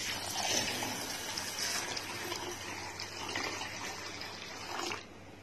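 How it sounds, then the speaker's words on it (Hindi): Water pours into a bowl of chana dal (split chickpeas) with a steady splashing gush for about five seconds, then stops. "अब हम इसमें पानी ऐड करेंगे।"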